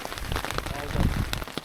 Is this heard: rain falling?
yes